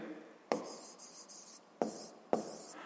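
Pen writing an answer on paper, a soft continuous scratching with three sharper taps as the pen strikes or lifts, close and quiet, with no talking.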